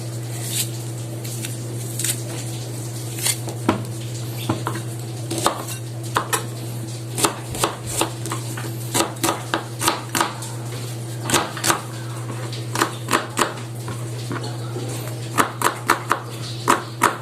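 A knife slices an onion on a cutting board for laing, giving a series of crisp, irregular taps and chops close by over a constant low hum.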